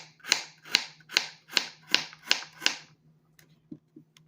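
A knife slices carrots thinly on a cutting board, about seven even, crisp chops at a steady rhythm, then a pause and a couple of softer taps, close and with no talk.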